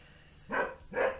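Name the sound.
dogs barking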